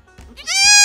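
A very large horned goat gives a loud, rising bleat as it calls for its mother, the strained cry swelling and holding to the end after a few soft, low sounds.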